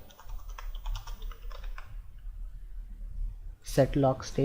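Computer keyboard typing rattles away in quick, uneven clicks for several seconds under a low hum, then a voice cuts in at the end.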